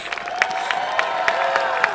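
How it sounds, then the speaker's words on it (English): Audience applause at the 2024 US Capitol Christmas Tree Lighting Ceremony for two veteran truck drivers, steady dense clapping from a large crowd with a few whoops rising above it. "How about a round of applause for Fred Austin and John Shank?"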